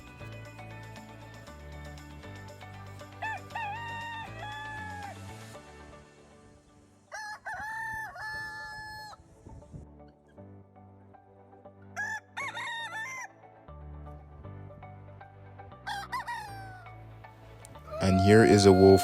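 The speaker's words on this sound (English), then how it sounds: "here are videos of roosters establishing boundaries in their various territories" Several roosters crow in turn across their territories, each long call rising and falling, some near and loud and others fainter, over a continuous background bed.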